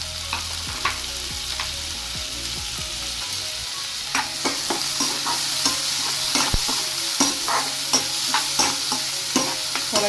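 Tomatoes frying in hot oil for a matar paneer sauce, with a steady sizzle that thickens after a few seconds and repeated sharp clicks of a spoon stirring against the pan.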